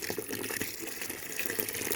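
Water being added and stirred into homemade clay paint, a continuous splashy liquid wash with small irregular sloshes and drips, close and fairly loud, with no talking.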